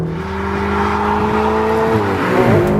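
A Ferrari 488 GTB V8 engine pulls hard and loud at high revs, its tone climbing steadily, then dipping briefly at a gear change before rising again.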